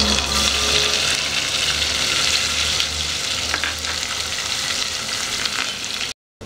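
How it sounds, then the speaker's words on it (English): Steady, dense sizzling of onions frying in a hot pan, with occasional stirring scrapes, continuous and close, then a brief cut to silence near the end. "I'm done frying my onions"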